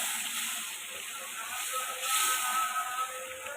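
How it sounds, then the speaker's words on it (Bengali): Spice paste frying with tomatoes in a pan gives off a steady, close sizzling hiss that swells slightly toward the end, with no talking. "অলরেডি মশলাটা কিন্তু টমেটোর সাথে খুব ভালোভাবে কষে আসছে"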